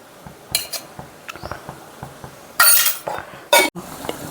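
A metal spoon clinking against a curry pot while cumin powder goes into a simmering Andhra fish curry, a few light taps and two brighter, louder scraping clinks near the end, otherwise quiet.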